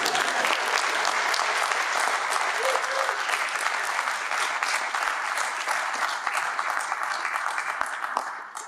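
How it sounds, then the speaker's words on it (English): Audience at a diocesan synod clapping steadily, a dense sustained applause filling the room at even loudness, with faint voices mixed in before it tapers off at the end. "You can clap."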